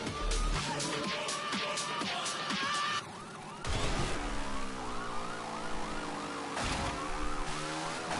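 Wailing police car siren in a racing video game, loud and sweeping up and down continuously, with game engine and music layered underneath, a brief dip partway through before the siren returns.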